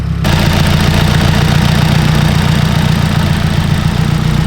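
A Nissan SR engine with an HKS blow-off valve idles steadily and loudly, its low, even rumble continuous from start to end with a slight rough throb and no voices.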